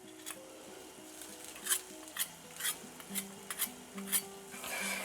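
A spoon or whisk stirs red chile into oil in a pan, giving a soft, faint scraping with several distinct clinks and rubs at an uneven pace. No one speaks.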